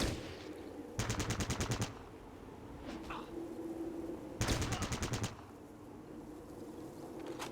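Two loud, rapid bursts of automatic gunfire from the Fallout Tactics video game, each lasting about a second with evenly spaced shots, separated by quiet ambient stretches with faint background sounds.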